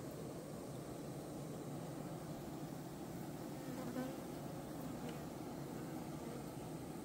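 Honeybees buzz around a three-tier hive as the colony draws inward, a faint, steady, low drone of many wings that persists at a constant level, with soft passing hums near the middle.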